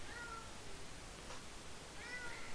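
Pet cat meowing indoors, two soft short meows about two seconds apart, faint against a steady background hiss.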